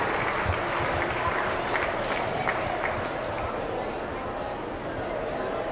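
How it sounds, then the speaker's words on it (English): An audience at a beef showmanship event applauds steadily, with dense, sustained clapping filling the space and faint crowd voices beneath. "Let's give them a round of applause as they walk out."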